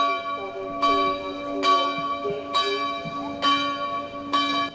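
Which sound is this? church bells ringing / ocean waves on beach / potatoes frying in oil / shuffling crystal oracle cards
church bells ringing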